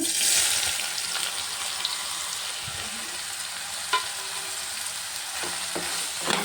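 Soya chunks sizzle on low heat in a pan with turmeric and cumin, a steady close frying hiss broken by a few spoon scrapes and clinks against the pan as they are stirred.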